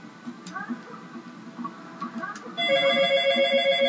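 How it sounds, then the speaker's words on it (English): A telephone rings at a Mario Tennis Power Tour play session, starting partway through as a loud, steady electronic ring with bright sustained tones over a mix of game music and background sound. "the phone rings"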